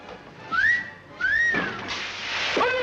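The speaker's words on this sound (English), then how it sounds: "Whistle in and out now." Someone whistles a few short rising and sliding notes, close by, with a dull knock or thump partway through.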